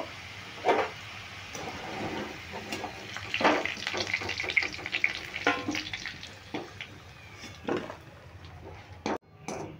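Potatoes fry in oil in a pan until reddish, a soft, continuous sizzle at low level. Scrapes and clinks from turning them punctuate it at irregular intervals.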